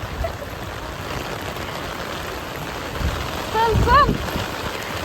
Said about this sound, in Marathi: खरंच खूपच पाऊस होता आम्ही पावसातच गेलोय दोघी पण